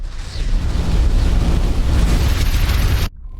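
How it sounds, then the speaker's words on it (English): A missile explosion hitting a ship in the space game X4 Foundations, a loud sustained roaring blast with heavy low rumble that holds for about three seconds, then cuts off abruptly to quiet. "Incoming missile. Something hit us."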